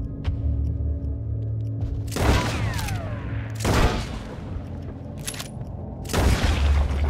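Gunshots from a firearm in Red Dead Redemption 2, three loud sharp blasts spaced a couple of seconds apart, each with a booming tail, over a steady low ambient hum.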